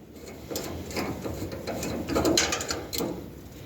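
A small igniter being unscrewed from a Mr. Heater portable heater, giving a close, dry run of ratcheting clicks and light mechanical scraping, with no talk.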